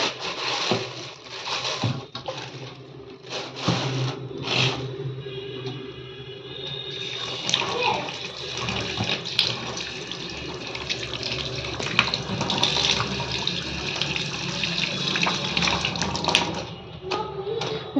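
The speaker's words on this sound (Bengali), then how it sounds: "এবার ধোবো মাংসটাকে" Raw meat being washed under a running kitchen tap: a continuous rush of water into a sink with uneven splashes and handling noises as the pieces are turned, fairly close and steady.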